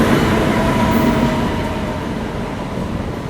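Teesta Torsa Express train at a station, a loud steady rumble of rolling wagons filling the space, slowly easing in level without breaks.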